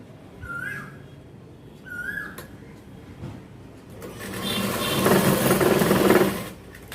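A sewing machine stitches a 42-inch jacket in a tailoring shop, giving brief soft whirs at first, then a louder sustained run of rapid stitching toward the end, with faint whistle-like tones early on.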